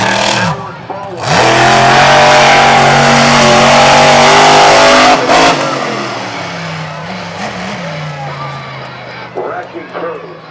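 A monster truck's big engine revs hard and loud during a freestyle run at a back-to-school bash, the truck crushing over a school bus, with a sustained roar that eases slightly near the end and an announcer talking over it.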